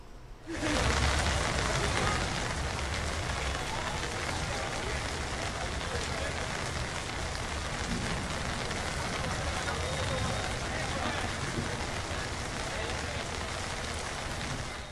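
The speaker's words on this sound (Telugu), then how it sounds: "భారీ వర్షం పడుతోంది" Heavy, unbroken rain pours down over flooded roads in Hyderabad, a dense steady hiss close by that lasts throughout without letting up.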